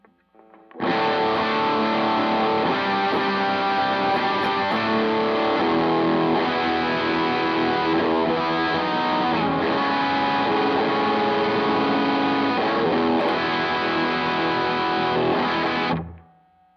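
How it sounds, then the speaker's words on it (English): Electric guitar played through a Wampler Collective Series distortion pedal in classic mode, a thick, sustained distorted chord passage that rings continuously at a steady loud level for about fifteen seconds before stopping, with no talking. "So the classic mode has a very spongy distortion sound, kind of like a vintage amp turned up all the way"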